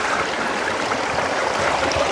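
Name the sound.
Seneca Creek stream flowing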